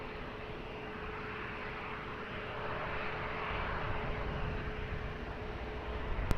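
A fixed-wing airliner landing on runway 20 at Lisbon Airport, a broad steady engine roar that builds slightly louder as it nears, heard alone without voices.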